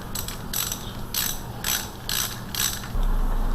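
A hand ratchet clicks in short repeated bursts, close and clear, as it snugs timing cover bolts on a Ford 302 5.0 engine, with a low steady hum underneath.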